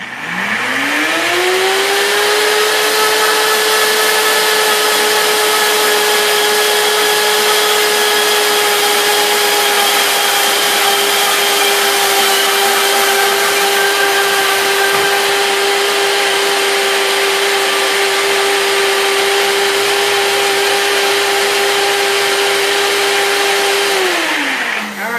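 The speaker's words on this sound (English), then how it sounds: "go ahead and mute this if you don't want to hear this blender for another second here" A blender whirs up to a high, steady whine while blending an olive oil salad dressing, holding loud and constant for over twenty seconds before spinning down, with no talking.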